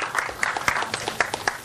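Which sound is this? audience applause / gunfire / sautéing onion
audience applause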